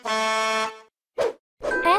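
A cartoon horn honks once, a loud, steady, nasal blast lasting under a second, followed by short bursts of a child-like voice speaking in a children's letters show.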